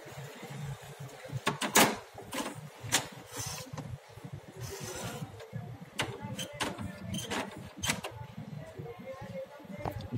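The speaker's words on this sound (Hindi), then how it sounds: "प्रिंटर ऑन हुआ है" An HP inkjet printer powers on and its cartridge carriage moves, giving irregular mechanical clicks, clunks and whirring shuttles close by at moderate volume, with a person talking over them.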